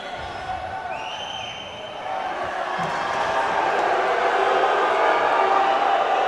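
A large arena crowd at a youth wrestling bout roars in support of their athlete, a broad sustained cheer that swells gradually louder through the moment, with a commentator talking over it.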